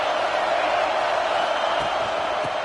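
A stadium crowd at a college football game cheers for the defense on a big third down, a dense, steady wall of roaring noise that fills the whole stretch without pause.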